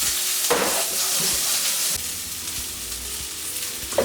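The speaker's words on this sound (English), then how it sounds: "we put these on, we fry these off in the oil" Root vegetables frying in smoking-hot oil in a pan, a loud steady sizzle with stirring scrapes and a brief burst as food hits the oil, alone without talk.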